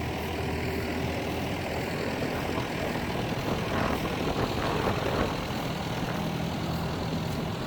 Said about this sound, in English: Tractors making right light work of that, I can tell you